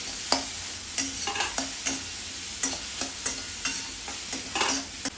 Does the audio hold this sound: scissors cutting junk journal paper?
no